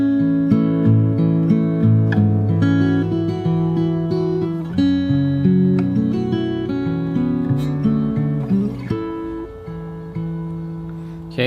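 Solo fingerstyle guitar picks a section of a song from Hamilton, sustained chords with a melody line moving above them, played close and alone at an even, gentle pace.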